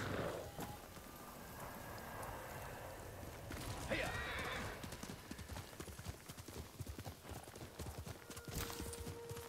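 A horse in the samurai game Ghost of Tsushima, its hooves clip-clopping at a steady walking rhythm and a whinny rising briefly partway through, with someone talking over the action.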